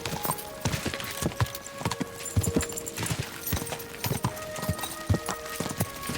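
Horse hooves pound in a fast rhythmic gallop across the ground in the video game Kingdom Come: Deliverance II, close and continuous, with the clip-clop beats following one after another and nobody speaking.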